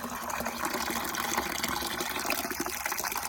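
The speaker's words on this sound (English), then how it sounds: "Just put some water in here." A steady, close gush of water poured into a backyard worm farm, continuous and fairly loud for a few seconds with no talking.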